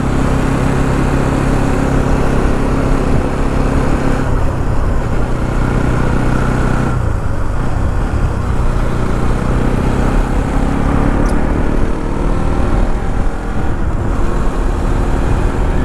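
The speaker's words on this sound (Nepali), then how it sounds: "बाइक त नमिठो कुद्यो हा, अब इन्जिनबाट हल्का साउन्ड चाहिँ आयो होला" A motorcycle engine drones steadily while riding on the road between Kathmandu and Dharan, with a loud, continuous hum and a slight roughness in the engine note, with no talk.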